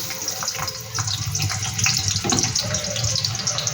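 Onions going into hot oil for homemade egg chowmein, giving a loud, continuous, dense hiss and crackle close up with no talking.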